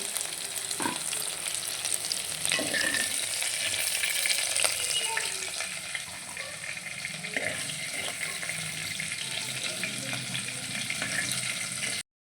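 Okra pieces fry in oil in a pan, a steady close sizzle with crackling and occasional clinks of stirring, continuous and without talk.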